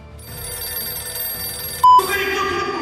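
A telephone rings indoors in an office on a workday, a short electronic ring standing out clearly above a steady hum of background room noise.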